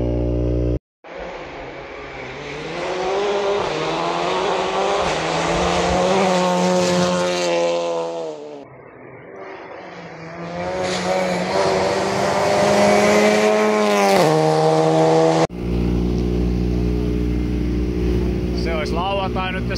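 A rough-running rally car engine at Secto Rally Finland 2025 revs loud and close, its harmonic pitch rising and falling through long pulls, with a brief drop near the middle and an abrupt cut to a harsher tone near the end.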